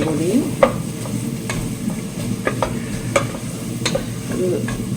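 A spoon scrapes and stirs turmeric, pepper and chili powder through a sizzling frying pan, with sharp intermittent clinks over a steady close-up hiss of frying.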